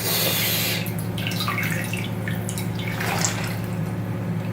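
Water steadily dripping and trickling from soaked black jeans during hand washing, a close, continuous wet patter with no talk.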